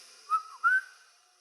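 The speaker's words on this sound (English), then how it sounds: "Sorry if that whistle is probably loud." Two short whistled tones, the second longer and slightly higher, ringing out alone against near silence.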